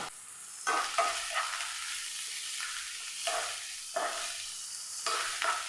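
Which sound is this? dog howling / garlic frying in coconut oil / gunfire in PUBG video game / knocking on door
garlic frying in coconut oil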